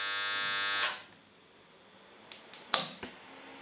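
An electric desoldering tool runs with a steady buzzing hum while removing a resistor from a circuit board, then stops; a few sharp clicks and taps follow at close range, with no talking.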